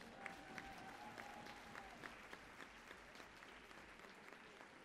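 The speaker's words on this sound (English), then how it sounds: "I think he deserves a louder round of applause." A conference crowd clapping steadily throughout, a broad wash of hand claps at moderate distance with no one speaking over it.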